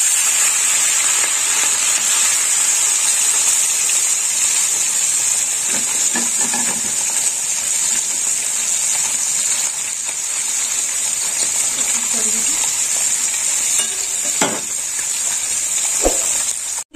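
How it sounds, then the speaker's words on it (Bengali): Small puti (pool barb) fish fry in hot oil with a loud, constant hissing sizzle, close up, with occasional soft scrapes and knocks from a utensil. "তেল গরম হয়ে গেছে, এবার আমি পুঁটি মাছগুলো ভেজে নেব।"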